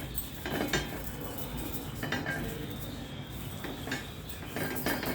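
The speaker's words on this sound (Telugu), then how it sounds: "ఉల్లిపాయ రాస్తున్నానండి ఉల్లిపాయ రాస్తున్నాను" An onion is rubbed across a hot dosa pan, producing soft scraping and a few light metallic clinks and knocks near the mic, with a low background hiss between the strokes and no voices.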